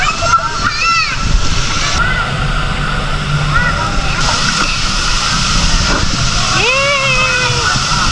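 Water splashes and sloshes in a crowded swimming pool at a spring resort in San Pablo City, Laguna, close by and steady throughout, with children and adults talking and calling out over it.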